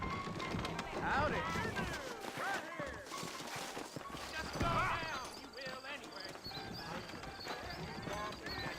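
Horses' hooves clip-clopping in the Western video game Red Dead Redemption, irregular clusters of hoofbeats with a neigh, moderately loud under steady character dialogue.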